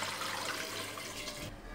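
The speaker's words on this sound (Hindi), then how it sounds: "3 गिलास मेरे पास पानी है, वो शामिल कर देना है इसमें।" Water gushes steadily into a pressure cooker for a moment and then cuts off abruptly.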